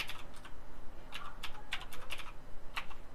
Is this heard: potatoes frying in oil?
no